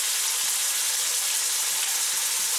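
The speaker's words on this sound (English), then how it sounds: "And this I put everything inside the oil." Chicken hearts and gizzards frying in hot oil, a steady, close, bright crackling sizzle that holds evenly throughout with no voices.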